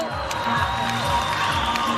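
Crowd at a boxing match cheering and applauding after the bout, a continuous roar of many voices with scattered claps, the arena noise filling the background while a commentator speaks.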